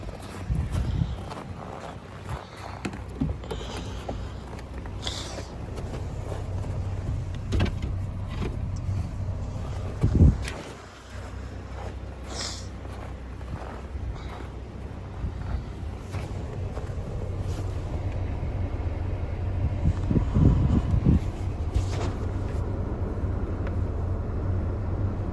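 A 16-year-old car's engine starts after sitting for two weeks, with a brief burst at the start, then a steady low idle rumble that grows slightly fuller toward the end, with small clicks and handling noises.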